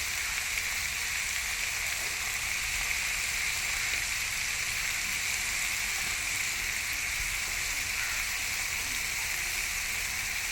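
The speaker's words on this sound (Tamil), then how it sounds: "கொஞ்சம் எடுத்து நம்ம பொரித்து சாப்பிட்லான்னு தான் பொரிக்கிறோம்" Anchovies frying in hot oil, a steady loud sizzle and crackle that continues unbroken throughout, with no talking.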